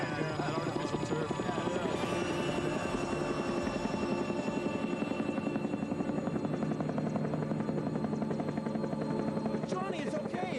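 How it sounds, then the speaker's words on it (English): Traffic helicopter passing overhead, a steady rotor drone with rhythmic chopping that runs loud and continuous through the whole stretch, with people talking underneath. "It's just a traffic helicopter, man."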